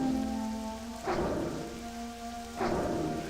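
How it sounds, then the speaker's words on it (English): Steady rain pours in World of Warcraft Classic, a continuous broadband hiss with two brief louder swells of heavier downpour, alone with no voices. "Hey, it's raining now."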